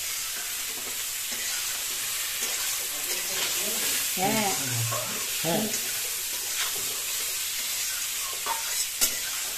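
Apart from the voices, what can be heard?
frying and stirring cauliflower in a pan for biryani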